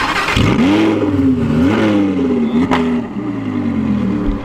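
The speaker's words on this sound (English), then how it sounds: "that exhaust sounds amazing" A loud Lamborghini Huracan with a Ryft exhaust revs hard, pitch climbing and dipping through several throttle blips, close and continuous with no talking.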